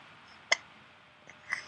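A dog hiccups softly three times, a sharp close hic followed by two fainter ones spaced about a second apart, in an otherwise quiet room.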